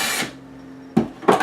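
Screws being driven into old, rock-hard solid redwood studs while shelves are mounted, as a brief power-tool whir followed after a pause by two short, sharp grinding bursts nearby, with no talking.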